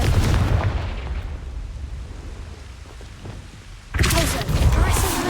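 A Confringo blasting spell in Hogwarts Legacy sets off a booming explosion with a rumbling crackle at the start, then a quieter stretch, then another loud blast burst near the end.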